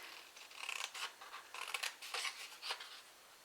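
Scissors snip through the paper lid of a hexagon gift box, a series of short crisp cuts close up, in a quiet room with no talking.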